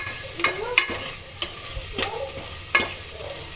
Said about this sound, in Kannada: ಆಮೇಲೆ ಸ್ವಲ್ಪ ಚೆನ್ನಾಗಿ ಫ್ರೈ ಮಾಡಿ.